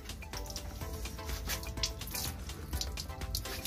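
Water runs from a drinking water tap at an energy park in Raipur, a quiet steady splashing stream with soft gurgles and drips, no talking.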